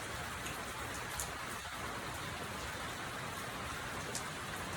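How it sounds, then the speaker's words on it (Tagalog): Steady rain falling, a dense even patter of drops on a surface, continuous and fairly soft throughout with no voices. "Ulan."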